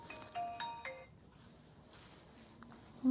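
A mobile phone ringtone plays a short, faint melodic tone sequence indoors, then cuts off after about a second, leaving a quiet room.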